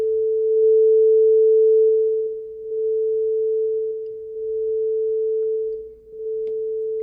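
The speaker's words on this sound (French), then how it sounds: "J'actionne l'interrupteur stand-by. Et vous l'entendez, il démarre tout à fait normalement." Yamaha A-S3000 integrated amplifier powering up from standby after repair of its right amplifier board, giving a steady, even hum tone that holds throughout with faint low rumble beneath and no talk.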